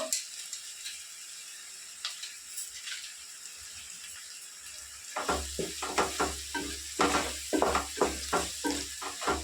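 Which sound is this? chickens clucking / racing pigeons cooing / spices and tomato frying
spices and tomato frying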